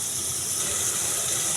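Rinse water from a spice bowl pours into a hot steel cooking pot of fried onion and spice masala, a steady close gush with a broad hiss and bubbling running continuously throughout.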